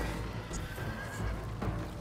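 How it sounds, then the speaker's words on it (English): A horse neighs in the samurai-era game Ghost of Tsushima, a loud, close whinny with hooves clip-clopping faintly beneath, over a constant low rumble of ambient noise. "What about the horses? Can we free the horses?"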